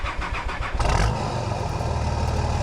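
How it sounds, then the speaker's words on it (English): An old car engine is cranked by the starter, chugging rhythmically for under a second before catching and settling into a loud, steady running rumble up close. "so let's get the car started"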